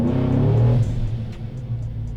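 Supercharged, cammed 6.2L GMC Denali V8 truck on a dyno: a loud, deep engine roar held hard for under a second, then easing to a lower rumbling run.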